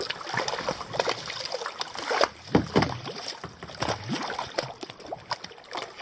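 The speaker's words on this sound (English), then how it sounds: "Hear the water." Water slapping and gurgling against a small boat on Lake Powell, with irregular splashes and lapping among cliffs, close by and moderately soft with no talk.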